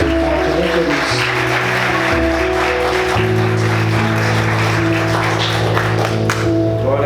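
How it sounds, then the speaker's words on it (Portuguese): A church congregation claps along during a service, steady applause blended with sustained music tones underneath, filling the room at moderate loudness for several seconds. "Aplauda Jesus com bastante alegria."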